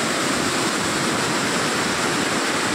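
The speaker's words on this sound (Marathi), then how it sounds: "किती डेंजर दिसतंय बघा, किती फोर्स आहे पाण्याला" A strong, forceful river rushes near the Gagangiri Maharaj math at Khopoli, making a loud, steady broadband roar of churning water close by with no pauses or voices.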